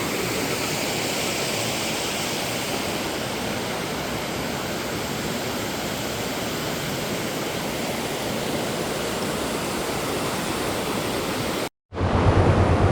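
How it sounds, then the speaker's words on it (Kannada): River water rushes at full flow beneath a small bridge near Belman, a loud, constant roaring wash that cuts out briefly near the end before resuming. "ನೀರು ಮಾತ್ರ ಫುಲ್ ಫ್ಲೋ ಅಲ್ಲಿ ಉಂಟು."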